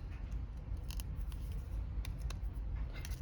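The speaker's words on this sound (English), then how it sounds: "I think I'm going to trim this just a little bit." Scissors trim a paper craft embellishment in a few quick, close snips spread across a quiet background, with no talking.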